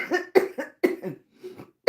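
A run of harsh, close coughs, several hacking bursts in quick succession with a brief pause before one more.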